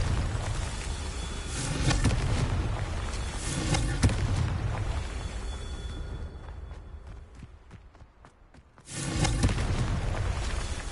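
A fiery Confringo spell explosion in a wizarding video game gives a sustained roaring rumble with repeated booming bursts for about nine seconds, easing briefly before a loud renewed blast near the end, with no talk.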